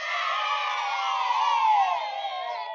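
A crowd of children cheers and whoops together for a few seconds, a bright sustained wash of voices with no talking over it.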